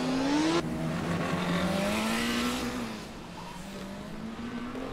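Formula Student race car braking into a corner on an autocross track, its engine note dropping through downshifts with a brief tyre squeal as it passes close, then revving again.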